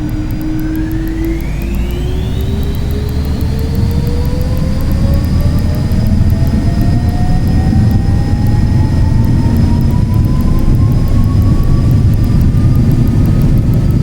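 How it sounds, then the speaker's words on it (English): A Learjet 35A's jet engines spool up during a rolling takeoff in a flight simulator, a loud steady roar with a rising whine that climbs in pitch throughout, alone without voices. "Do the rolling takeoff here."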